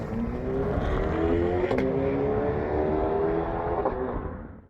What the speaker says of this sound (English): because the engine is right in the middle of this car, it can launch flawlessly